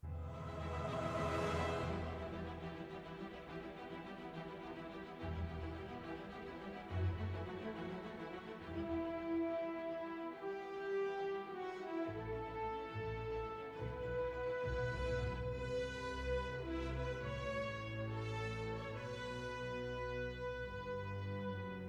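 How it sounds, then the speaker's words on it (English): Layered Spider-Man PS4 web-swinging music plays continuously, steady sustained tones with rising melodic swells and a bright whoosh near the start, no voices. "the audio cues when you're swinging around"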